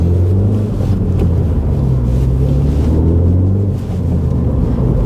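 A 2021 F56 Mini Cooper S with a two-litre turbo petrol engine and muffler delete idles or cruises with a loud, steady low rumble and drone, continuous throughout with no voices.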